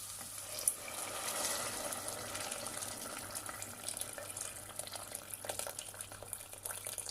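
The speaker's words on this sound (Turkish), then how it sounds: "Şimdi üzerine kaynar suyunu veriyorum." Boiling water poured from a kettle over sautéed tomato paste and peppers in a pot, a faint, steady hissing pour that continues throughout with no talking.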